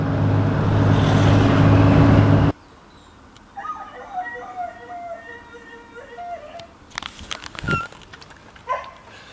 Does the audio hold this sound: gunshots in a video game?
no